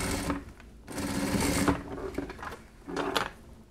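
Home sewing machine stitching over a shoulder seam from the inside of a sleeved top, loud close rattling bursts of rapid stitching broken by brief pauses.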